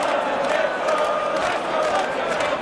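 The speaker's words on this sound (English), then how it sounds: "The crowd are chanting" A darts crowd chants loudly and continuously in a big arena at a Premier League Darts match, a dense wash of many voices with no clear gaps.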